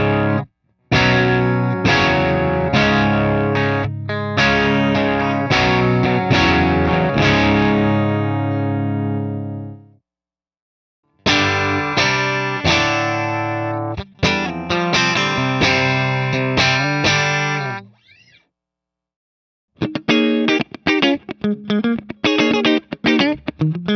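Electric guitar played through Kemper Profiling Amplifier profiles, ranging from a super clean studio-rack tone to earthier overdrive, with strummed chords and riffs in loud bursts separated by brief pauses.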